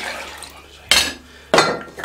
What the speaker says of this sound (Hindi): इसके साथ का गिलास लेके इसके अंदर हम ये पानी शामिल कर देंगे।